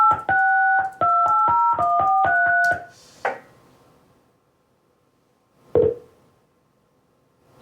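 Softphone dialing an outside line through a configured outgoing trunk: a rapid run of paired DTMF keypad tones, then a short burst as the call connects and a lone click a few seconds later, with no talking.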